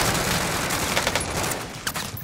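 Dense, sustained automatic gunfire from the Call of Duty Warzone video game on the Rebirth map, continuous rapid shots with a few sharper bursts near the end and no talking.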